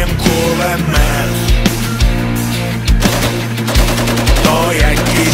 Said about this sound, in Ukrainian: заряджаєм кулемет